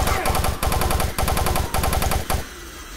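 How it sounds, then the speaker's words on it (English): A chain gun fires in the video game Doom 3 in rapid, loud bursts of rattling shots, several strings broken by brief gaps, before trailing off. "Like, the freaking chain gun?"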